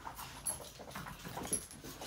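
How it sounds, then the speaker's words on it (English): A pet dog somewhere indoors lets out faint, scattered barks and whimpers, quiet and a little distant against low background hiss. "My dog's going psycho."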